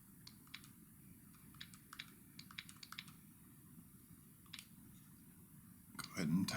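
Light, sparse plastic taps of a stylus on a Nintendo DS Lite touchscreen as characters are entered, soft irregular clicks over a quiet low hum, with a louder rustle at the end.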